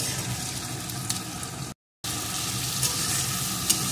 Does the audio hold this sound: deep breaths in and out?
no